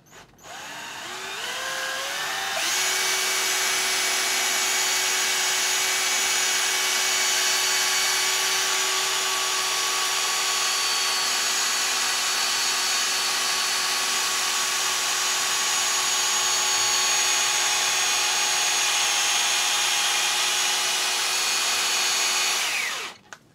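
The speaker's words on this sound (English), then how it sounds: "I still made sure the unit was given a good seeing to with the 2000 and 3000 grit pads, re-spritzing both surfaces as necessary in between" Wet sanding of a car headlight lens with 2000 and 3000 grit pads produces a continuous, bright, close whirring hiss that starts abruptly, holds steady for about twenty seconds, then stops.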